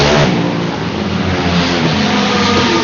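Race car engines roar loud and close at a BK7 heat race, revving hard in one continuous, slightly wavering howl with no talk over it.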